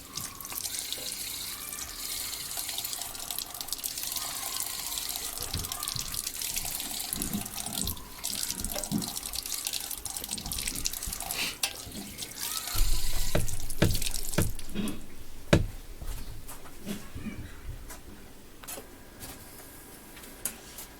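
Kitchen sink tap running steadily as brass parts are rinsed, a continuous hissing water stream with splashing and clinking of metal pieces under the flow, close and fairly loud throughout.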